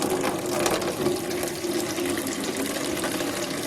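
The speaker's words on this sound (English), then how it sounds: "that's just going to drain the remaining of the water that's in the tank" Water drains steadily from a toilet tank after the fill valve is lifted out of the way, a continuous close rushing trickle with faint mechanical clicks, no talk.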